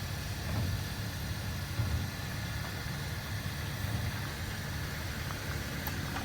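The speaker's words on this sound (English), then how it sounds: "Engine actually sounds pretty good." A police auction car, jump-started, idles steadily at a moderate distance, a low continuous engine rumble with light mechanical vibration and no talking.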